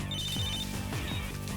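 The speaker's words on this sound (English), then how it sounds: "And then your phone rings." A telephone rings in a dramatic TV scene, a steady continuous electronic ring filling the short moment on its own, loud and close.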